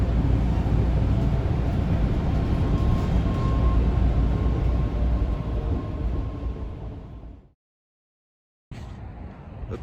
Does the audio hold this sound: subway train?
yes